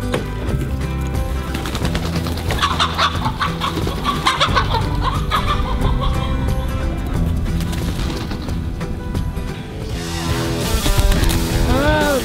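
Chickens clucking on a homestead farm, close and loud, with repeated overlapping clucks and squawks throughout and a burst of louder calls near the end, with no talking.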